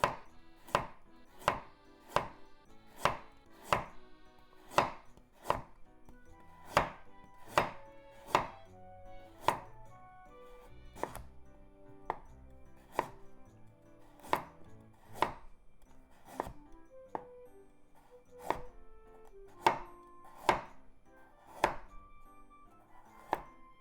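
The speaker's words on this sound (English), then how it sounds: "Make it into very thin diagonal slices." A knife slices food into very thin diagonal pieces on a cutting board, giving about thirty crisp, evenly spaced chops in a steady rhythm, close and clear with no talking.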